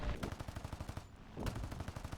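Rapid bursts of machine gun fire in a War Thunder air battle, distant and faint, with a steady rattling rhythm broken by a short pause before resuming.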